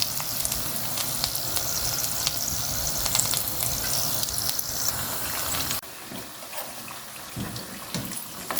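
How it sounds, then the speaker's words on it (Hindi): Potato samosas deep-fry to golden brown in oil, making a dense, continuous sizzle up close that drops to a softer, thinner bubbling for the last few seconds, with no voices. "समोसे आप देख लें, बड़े अच्छे तरीके से गोल्डन ब्राउन फ्राई हो चुके हैं।"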